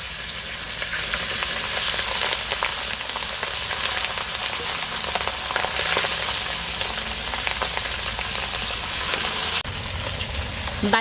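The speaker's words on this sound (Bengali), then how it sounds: "এখন বাকি মাছগুলো ভেজে নেব।" Pieces of khoira sea fish fry steadily in hot oil, a dense, continuous sizzle with occasional stirring and crackle, loud and close throughout without any voices.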